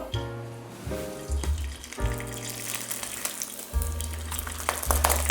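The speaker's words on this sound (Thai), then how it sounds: "เราจะมาทอดหนังปลากันต่อนะครับ" Fish skin fries in hot oil with a continuous crackling sizzle that grows slightly busier over a few seconds, backed by steady low tonal music.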